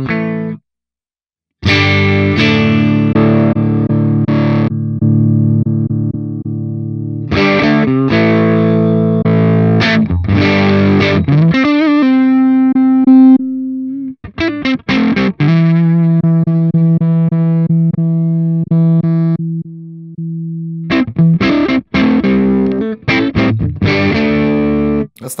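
An electric guitar plays through a Line 6 HX Stomp on a Fender-style amp model, giving lightly driven chords and sustained notes with gaps of silence between phrases, loud and close without speech.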